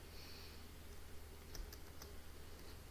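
Light typing on a computer keyboard while writing Python code, several quiet scattered key clicks, close by but faint under a low steady hum.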